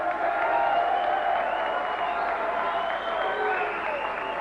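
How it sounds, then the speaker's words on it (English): Crowd at a professional boxing event applauding a novice boxer after his third pro fight, a steady continuous roar of clapping and cheering with occasional whoops throughout. "I think that itself awards a round of applause for young Sean."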